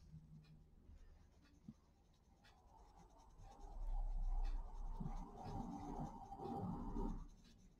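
Coloured pencil or crayon rubbing on the grippy paper of a colouring book, a steady close scratchy scrubbing that swells louder and more continuous in the second half, with no talk.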